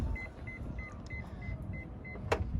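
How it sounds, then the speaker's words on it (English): The power sliding door on a Toyota Previa Estima runs with a low motor whir, accompanied by a series of soft, regularly spaced warning beeps and a short click near the end, all fairly quiet and close. "power doors."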